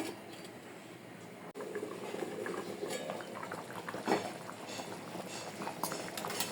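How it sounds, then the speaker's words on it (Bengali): Red lentil dal bubbles steadily in a cooking pot on the stove, a constant soft seething boil with a faint metallic clink from the lid or pan partway through. "ডালটা ফুটে উঠলে পরে আঁচ কমিয়ে রান্না করতে হবে"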